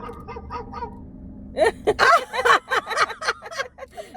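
A dog barks in a rapid series of sharp, close yaps heard over a call, preceded by a few fainter yelps.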